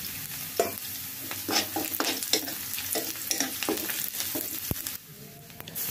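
Cumin seeds fry with onion and garlic in hot oil, giving a continuous close sizzle broken by several sharp scraping stirs and clacks of a utensil against the pan.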